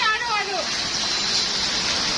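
Steady rain pouring outdoors during a hailstorm, a dense even wash of broadband hiss throughout, with a brief voice-like tone sweeping through at the very start.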